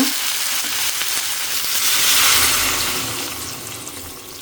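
Sautéed vegetables with dal hiss and sizzle steadily in a pan as water is poured in, a broad, loud frying wash that swells midway and then settles, with no talking.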